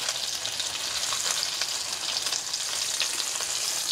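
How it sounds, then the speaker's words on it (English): A salmon fillet sears in a hot pan, giving a loud, steady, close hiss of frying with a constant spitting crackle and no voices over it. "Just sear the outside of the salmon so the seasoning is actually on the salmon."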